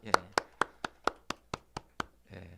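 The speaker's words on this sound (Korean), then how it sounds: "일어나셔서 우리 박수로 격려하겠습니다." A church congregation claps for an elderly deaconess being honoured, giving about nine crisp, evenly spaced claps close by, ending in a soft low murmur.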